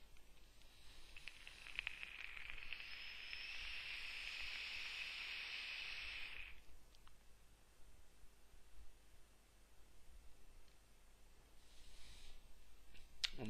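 Vapour hisses from a RedFire atomizer running at about 0.8 to 1 ohm, a soft steady hiss for several seconds during a draw, then faint rustling.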